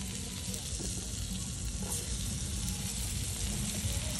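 Chopped capsicum and onion frying in butter in a pan at a hilltop night campsite, a steady dense sizzle that runs evenly throughout, close and fairly loud, with no talking.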